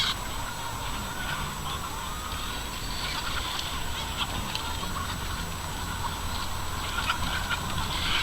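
A farm flock of about 5,000 chickens: a continuous, dense wash of overlapping clucks and squawks that carries steadily all the way through, with no single bird standing out from the crowd.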